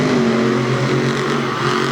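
Monster trucks, one of them a Ram, roar off the starting line in a drag race at a Lima, Ohio event, a loud, steady engine drone that fills the whole moment at close range.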